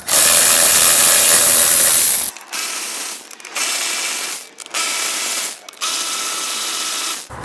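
A ratchet with a 10mm socket working on a Kawasaki Ninja ZX6 motorcycle, loud and close, heard as a long continuous rasping burst followed by several shorter ratcheting runs with brief pauses between them.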